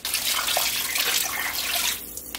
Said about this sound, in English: I'm going to top it up now with some more water